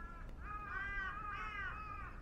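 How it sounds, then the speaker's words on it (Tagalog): A crow caws outdoors on a city street in Daegu, Korea, giving a quick run of harsh, fairly loud calls that repeat in a short uneven rhythm over faint ambient noise. "Ay, may uwak."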